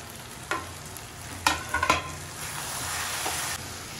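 Petals fry in a pan with a bright sizzling hiss, punctuated by several sharp scraping clicks of stirring in a short cluster, close and unaccompanied by speech.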